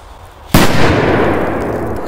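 A single sharp, loud bang as a firecracker explodes inside a toy car, followed by a long crackling, hissing decay.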